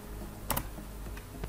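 A few computer keyboard keys pressed to stop a ZX Spectrum program, a brief pair of quick clicks followed by a couple of fainter taps over a steady background hum.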